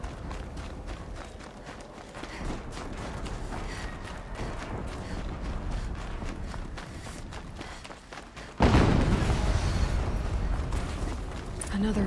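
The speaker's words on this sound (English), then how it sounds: "Explosion." A video game explosion in Alterlife lands as a sudden loud, broad boom about two-thirds of the way through, over a steady rumbling game soundscape of footsteps and machinery.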